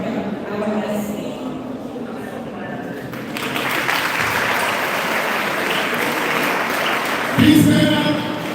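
Audience applause at a live launch event for a drug-prevention program, a dense steady clapping that swells louder partway through and continues throughout, with voices mixed into the crowd noise.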